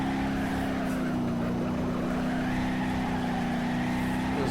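Cummins diesel engine in a dually pickup truck revving steadily in the BeamNG.drive driving game, a constant droning hum with a strong low tonal note that holds throughout, loud and close with no talk.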